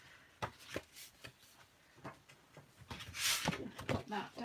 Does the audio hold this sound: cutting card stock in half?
yes